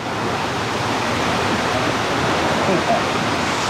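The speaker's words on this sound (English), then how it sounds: "The gates are leaking quite badly." Water rushing steadily through badly leaking canal lock gates, a loud, continuous turbulent roar filling the whole moment without pause.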